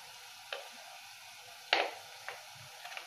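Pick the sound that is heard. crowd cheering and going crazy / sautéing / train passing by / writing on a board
sautéing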